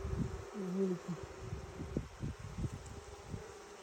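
Honey bees buzzing at a hive during queen checks, a faint low hum with soft rustling and handling noises nearby, quiet throughout.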